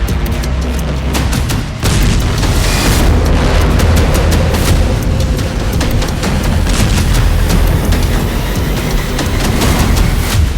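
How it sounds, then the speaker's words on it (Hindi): Explosions from Russian missile strikes on Kyiv form a loud, continuous roar of heavy booms and crackling blasts that runs the whole time, with a sharp jump in level near the start. "ये धमाके बता रहे हैं कि पुतिन के हमलों में कितना बारूद है।"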